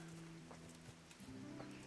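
Faint hooves clop a few times from a horse in the medieval game Kingdom Come: Deliverance, set quietly against a soft, sustained tonal background.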